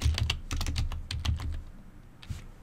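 Quick bursts of close computer keyboard typing clatter in irregular clusters, then thin out to a single final keystroke.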